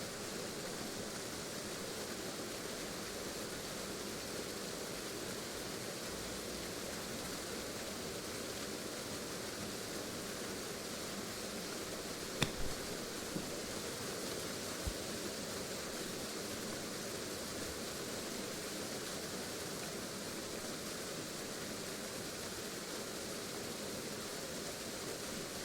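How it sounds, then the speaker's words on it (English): A roaring waterfall in the GS Pro golf simulator video game on the Glacier Gulf course makes a steady, even wash of broadband rushing noise. It is quiet and unchanging throughout, with a faint click near the middle and no talking. "We're apparently next to the loudest waterfall on Earth."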